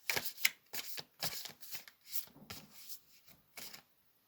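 Tarot cards of a druid deck being shuffled by hand in a series of crisp riffling bursts separated by short pauses, close and moderately loud with no talking.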